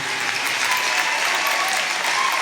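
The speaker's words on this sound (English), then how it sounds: "So please give yourselves a massive round of applause for leading the way and for being a part of the vegan army." Applause from a large audience packed into a room at a vegan festival event, a steady dense clapping that carries on without a break for the whole stretch.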